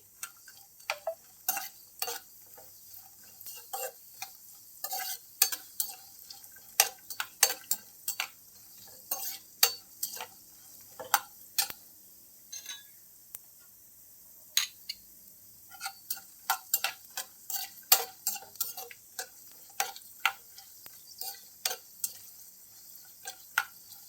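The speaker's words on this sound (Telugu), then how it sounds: "ఈ పప్పులన్నీ ఒకదాని తర్వాత ఒకటి వేసేసుకుందామండి. సిమ్లో పెట్టుకొని వేయించుకోవాలండి." Lentils and nuts roast dry in a pan on low heat for a semiya sabudana payasam, with a long run of light, irregular clicks and rattles as they are stirred over a near-silent background.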